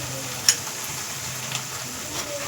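Ground chili paste frying in a pan for a rice dish gives a steady soft sizzle, with a small sharp crackle near the start and another faint pop later, no voices.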